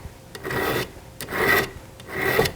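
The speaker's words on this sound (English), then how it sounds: "So now just move on to the next one, file the burr down." A hand file rasps three times across the burred drive links of a chainsaw chain. The strokes are close, loud and evenly spaced, with no talking.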